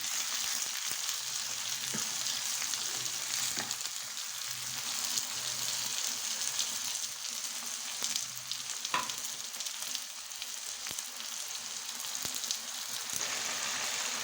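Tomatoes sizzle and crackle steadily in a hot pan, with occasional stirring clinks, the frying sound continuous and fairly quiet.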